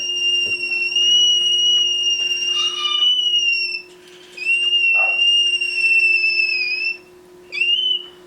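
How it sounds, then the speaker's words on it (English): A baby triton cockatoo gives high-pitched begging whistles, four drawn-out, wavering bursts with short gaps between them, clear and close. "That's kind of the high-pitched whistle for the begging."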